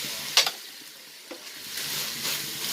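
Banana flower stir-fry with grated coconut in a pan, a few soft scrapes of stirring over a faint, low sizzle.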